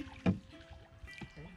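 Rowboat steered by a boatman on a river in a rural char area, with a single close splash-like oar stroke and a softer one later, faint water movement and distant engine hum between.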